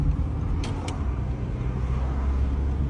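A car drives through city traffic, turning left on a red light, with a steady close engine and road rumble filling the cabin throughout and a brief hiss near the start.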